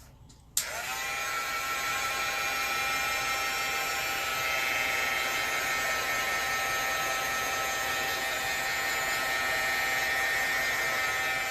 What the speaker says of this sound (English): So I am going to hit this card with my heat gun for 1 second.